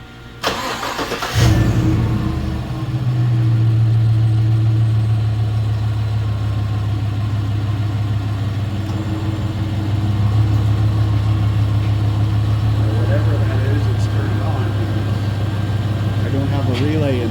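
A 2014 GM truck engine cranks briefly and catches, then settles into a steady, loud, close idle that runs on without a break.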